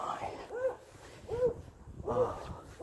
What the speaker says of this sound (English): that barking dog right there always gets loose